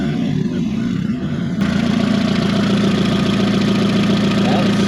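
A VW Caddy with a 20-valve turbo engine fires up after a short crank, then settles into a steady, loud, close idle with an even mid-pitched drone.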